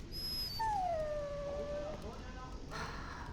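Dog whimpering in Dragon Age: Origins, one long falling whine close up, followed by faint rustling.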